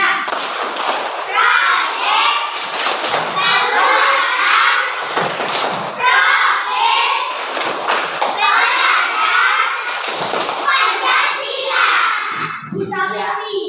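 A classroom of children chants the Tepuk P5 clapping routine together, loud, rhythmic group voices with bursts of hand claps and thumps running throughout.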